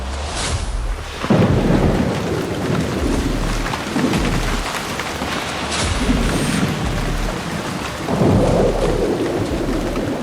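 Heavy rain pours steadily while deep thunder rumbles and cracks repeatedly, loud and close, with no voices.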